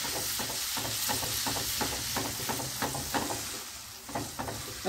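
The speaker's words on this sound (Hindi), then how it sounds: "ये दो थोड़ी छोटी इलायची ली है, और 3-4 हमने इसमें लौंग ली है। हम इसको थोड़ा सा ऐसे हम भून लेंगे इसमें।" Small green cardamom pods and cloves roast in a pan for a lemon chicken dish, giving a steady close hiss and sizzle with quick rhythmic scraping strokes of a spoon.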